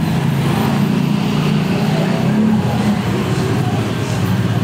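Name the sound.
motorcycles passing by fast on road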